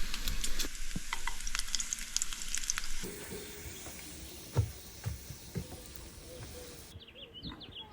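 Bacon sizzles and crackles steadily in a frying pan for a BLT, a dense bright hiss with scattered pops that softens after the first few seconds, while faint bird chirps come in near the end.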